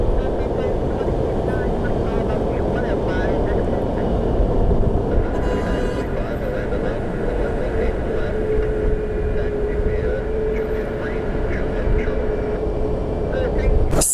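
A Delta airliner at Orlando International Airport, its jet roar steady and moderately distant for the whole stretch, with a thin whine emerging later and people talking over it.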